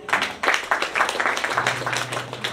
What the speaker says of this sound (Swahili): Pigie Yesu makofi